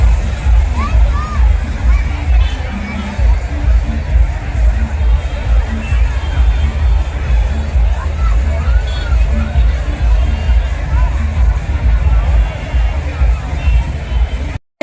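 Dense, steady crowd babble fills a busy fairground, countless voices merging into a continuous hubbub close all around, with no single voice standing out.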